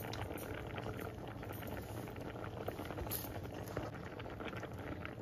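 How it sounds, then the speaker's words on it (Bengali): Dried peas with diced potato and onion boiling in a covered pot for ghugni, a steady soft bubbling with fine crackly pops throughout. "এবার আমি ঢাকা দিয়ে কড়াইটা সিদ্ধ করে নেব।"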